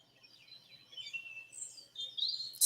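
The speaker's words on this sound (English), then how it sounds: "Just tweeting away." A bird tweets in quick, high chirping phrases, fairly faint and alone in a quiet setting, swelling briefly louder toward the end.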